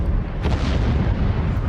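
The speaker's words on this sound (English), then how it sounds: "It bursts out through a huge explosion on Mount St. Helens." The Mount St. Helens volcanic eruption sounds as a loud, deep rumbling blast with a sharper burst partway through, heavy low boom throughout and no voices.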